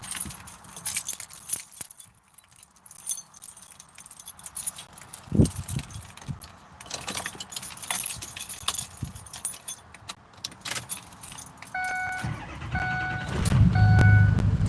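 Keys jangle near a truck, scattered clinks and rustles on and off for several seconds while someone searches for them, with a brief engine-like rumble rising near the end.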